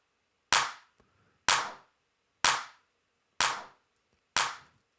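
Five evenly spaced, sharply compressed and distorted clap hits from a drum sample, each a hard punchy crack with a short decaying tail, played alone in a music production session.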